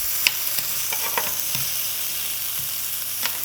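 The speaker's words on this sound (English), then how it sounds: "So I'm going to add the rest of the potatoes to this pan here." Potato pieces hit a hot pan and are pushed around, giving a loud continuous sizzle broken by several sharp scraping clicks and knocks, close by and without speech.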